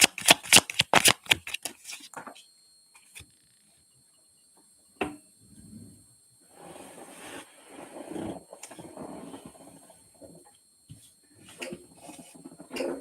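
Tarot cards shuffled, a fast close riffle of card flutters at the start, then scattered soft card slides, taps and handling noises with quiet gaps.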